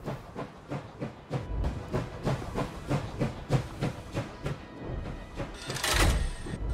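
A train in the video game Last Train Home rolls to a stop, its rhythmic clickety-clack slowing over several seconds before a loud burst of steam hiss near the end.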